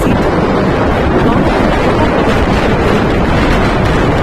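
Rough sea waves and strong wind during Cyclone Fengal along the coast, a loud, constant roar with heavy wind buffeting the microphone throughout.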